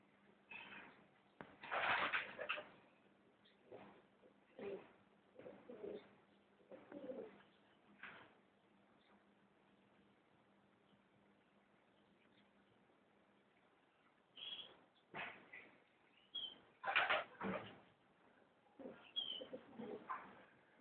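White pigeons cooing in repeated soft bursts, with short pauses and a quiet stretch midway before the cooing resumes, fairly close and alone.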